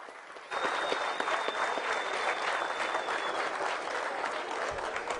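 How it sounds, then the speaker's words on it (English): Audience at the 2011 Brazil Masters snooker final breaks into sustained, appreciative applause that starts abruptly after a quiet moment and holds steady through to the end. "Appreciative applause from the audience"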